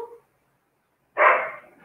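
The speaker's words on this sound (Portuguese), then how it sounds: "os cães ficaram nervosos aí" Dogs bark in short, sharp bursts, one brief yelp followed after a pause by a louder, close bark that fades out.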